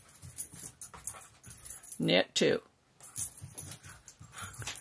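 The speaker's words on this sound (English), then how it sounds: "Boy, my dogs are having a good time down there." Dogs playing nearby, with bursts of panting and whimpering during a flat-worked intarsia cable knitting session; the dog noises come in a loud cluster partway through, with a person talking before and after.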